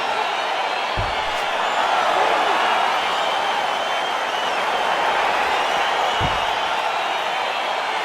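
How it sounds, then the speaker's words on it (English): Arena crowd in the UFC 4 video game roars in a steady, dense wash of cheering and applause around an octagon fight, with a couple of dull thuds and talk underneath. "crowd getting excited as this fight gets underway"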